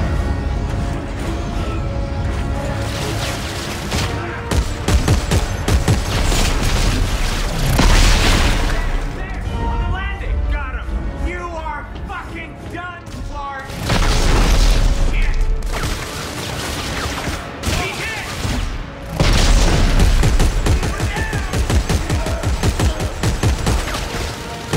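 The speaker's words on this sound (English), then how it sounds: "I'm shooting straight at you." Gunfire and explosions in the video game Dead Space 3 roar through a long stretch of heavy booms, crashes and rapid shots, loud and close, with swelling blasts and a brief lull midway, while voices talk over parts of it.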